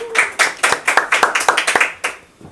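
A studio audience on a talk show applauds for guest Gonzalo Genek with fairly quick, rhythmic clapping that stays loud and close, then tapers off near the end.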